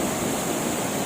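Pulangbato Falls in Valencia, Negros Oriental, roars as a steady, dense broadband wash of falling water, loud and continuous without a break.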